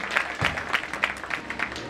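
A group claps together in a steady rhythm, roughly three beats a second, fairly close and unbroken, with faint voices underneath.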